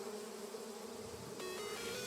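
Wasps buzzing outdoors, a steady close-up drone with a sharper, brighter buzz joining near the end.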